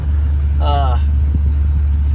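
A 2006 Toyota Tundra XSP crew cab V-8 pickup runs at a steady, loud low idle throughout, with a brief voice heard over the engine rumble.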